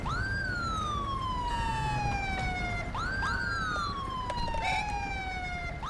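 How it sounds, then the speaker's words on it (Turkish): Police siren from a GTA 5 police mod, wailing in long falling sweeps that repeat about every three seconds, loud and steady against a continuous noisy background, with a second siren layered in and no speech. "Başka kimin sireni ötüyor?"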